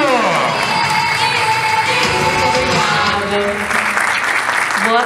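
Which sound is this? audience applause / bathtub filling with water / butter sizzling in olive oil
audience applause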